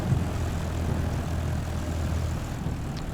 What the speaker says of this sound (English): Just taxiing out to the runway now.